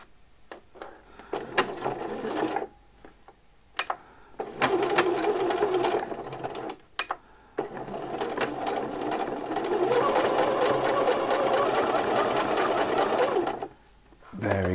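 A sewing machine running a zigzag stitch along the short edge of a t-shirt, its needle rattling in quick bursts broken by brief pauses, then a long steady run, close by with no talking.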